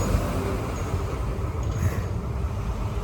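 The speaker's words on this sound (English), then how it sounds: "Stupid loud truck." Loud truck passing outdoors, a steady heavy engine and road rumble that swells slightly midway, with no talking over it.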